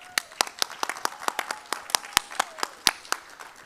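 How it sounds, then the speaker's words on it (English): A small audience claps for workshop leaders at a finance session: sparse, distinct individual claps in an uneven rhythm, close and fairly crisp, with no talking over them. "join me in giving a round of applause to our 5 different groups that were leading the workshops"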